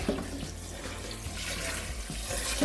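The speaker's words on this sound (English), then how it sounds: "just catch some water just to cover the fish" Tap water runs steadily into a pot to cover rinsed mackerel fish, a close, continuous splashing gush with slight shifts in tone as the pot fills.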